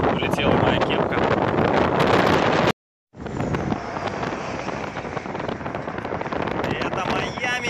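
A strong crosswind in Miami buffets the microphone while riding. It makes a heavy, rumbling roar that cuts out briefly partway through and then returns, gusting unevenly.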